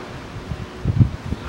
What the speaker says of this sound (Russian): У нас ветер очень сильный, поэтому помехи будут